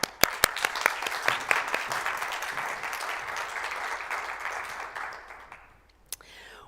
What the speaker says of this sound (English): So now we can applaud them.